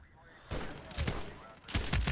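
Gunfire in the PC multiplayer shooter Medal of Honor Warfighter: after a quiet start, a burst of loud shots cracks out, then another cluster of rapid shots near the end.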